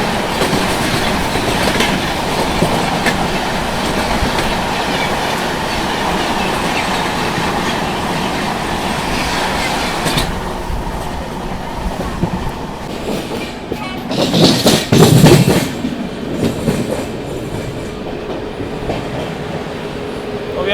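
Bhubaneswar–Bangalore superfast express train rushing past close by, a steady loud roar of wagons and rhythmic clickety-clack of wheels over rail joints for about ten seconds, then fading with a brief burst of rattling and squeal near the end.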